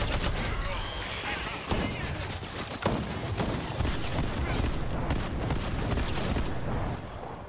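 A turret fires in Fortnite as a dense, continuous stream of rapid shots over several seconds, punctuated by a few sharper cracks, loud and close with players talking throughout.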